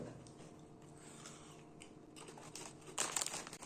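A snack bag is crinkled and torn open nearby in a kitchen, soft rustling building into a louder crackly burst toward the end, with no talking.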